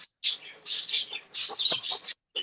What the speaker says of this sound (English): Who's got poultry in the back? I hear birds chirping.